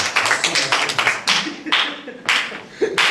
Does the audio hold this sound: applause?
yes